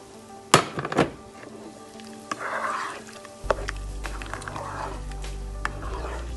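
Hot water and milk are poured into a pot of chicken pulav, giving a few soft hissing, bubbling bursts over low kitchen rumble, after a couple of sharp utensil clinks at the start.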